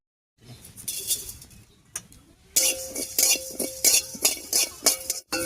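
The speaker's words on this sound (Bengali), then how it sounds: "এবার শুকনো খোলায় 1 চামচ গোটা ধনিয়া আর 1 চামচ গোটা জিরা ভেজে নিচ্ছি।" Whole coriander and cumin seeds dry roast in a hot pan, giving dry crackling, rattling and scraping as a utensil stirs them, close and moderately loud, with no talk.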